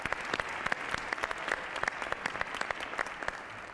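An audience applauds on a live television talk show, with dense, steady clapping from a crowd that keeps going at an even level throughout.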